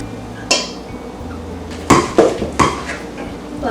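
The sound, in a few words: whisking an egg into potato croquette dough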